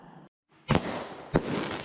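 Fireworks crack outdoors near a river: a quiet stretch gives way to two sharp, loud bangs about half a second apart, each followed by a rumbling, noisy tail.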